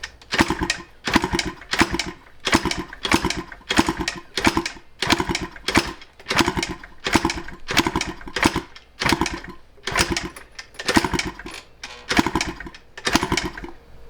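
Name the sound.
motorcycle engine being kick-started to clear tailpipe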